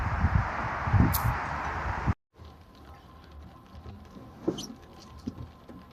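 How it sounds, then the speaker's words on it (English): Rain pattering on a Skoda at a motorway service station, a dense steady patter of drops on the car that stops abruptly partway through, leaving a quieter spell of faint scattered taps. "It's raining now"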